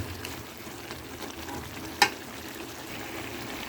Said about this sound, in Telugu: కొంచెం పసుపు వేసుకుంటున్నాను. కలుపుకొని బాగా మగ్గించుకోవాలి.